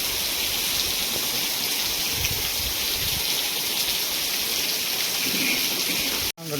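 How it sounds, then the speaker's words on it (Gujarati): Heavy rain pours steadily onto farm fields as a dense, even hiss that stays loud and unbroken, ending in a sudden cutoff. "ધમધોકાર વરસાદ ચાલુ."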